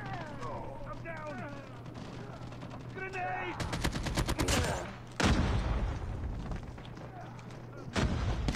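AK47 gunfire in Call of Duty Mobile, with rapid automatic bursts and booming shots that come in loud close runs and then drop off, alongside other game sounds and a voice talking.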